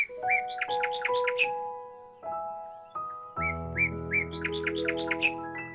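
Birds chirp and whistle in quick repeated bursts, bright melodic calls layered over one another, fairly close and steady throughout.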